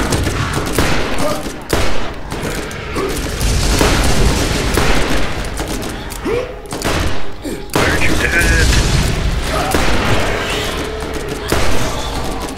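Explosive booms and bursts of gunfire crash through a chaotic video game battle against skags, with a grenade blast among the dense, continuous action and a player talking over it.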